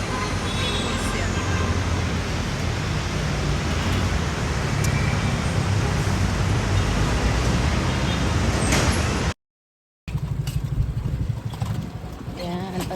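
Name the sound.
riding a motorized tricycle through road traffic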